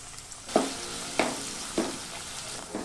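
Chopped onions and cumin seeds fry in hot oil for a capsicum masala curry, a steady sizzle broken by four scraping stirs spaced about every half second to second, close and moderately loud with no talking.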